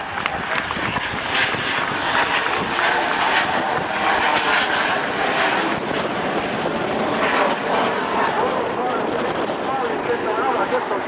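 A propeller airplane at an airshow in Ostia roars continuously overhead during an aerobatic roll, its engine note shifting as it maneuvers, with a commentator talking loudly over the noise.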